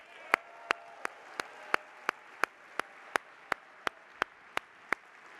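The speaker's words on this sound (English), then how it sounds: "Let's give Dan a round of applause" Audience at the 43North startup finals claps for Dan in a steady unison rhythm, about fifteen sharp, evenly spaced claps ringing over a faint crowd murmur, fairly quiet overall.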